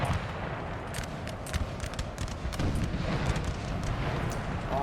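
Howitzer artillery fire in a Napoleonic battle in the game Napoleon: Total War, a dense, continuous roar of booming cannon shots and crackling gunfire layered over one another without pause.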